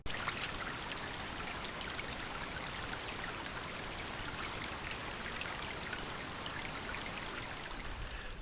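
Shamrock Creek flows steadily along a wooded trail lined with hemlock, a continuous close rushing and trickling of water that holds an even level throughout with no voices.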